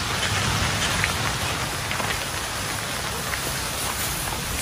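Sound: sudden rain falling

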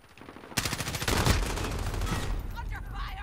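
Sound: gunfire in video game Modern Warfare

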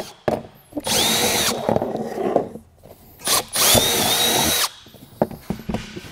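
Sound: drilling holes in a truck's dash panel

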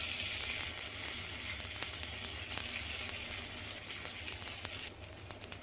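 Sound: ragi bun dosa batter cooking on a pan

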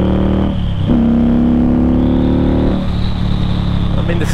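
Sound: Indian Scout motorcycle engine revving

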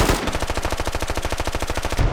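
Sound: gunfire in the video game Squad

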